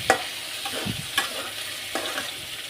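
Sago and potatoes roasting in a pan, a low sizzle broken by quick stirring scrapes and a couple of sharp spoon knocks, close and continuous.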